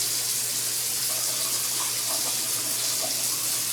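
Water runs steadily from a kitchen tap into a sink, a constant splashing rush with no one speaking.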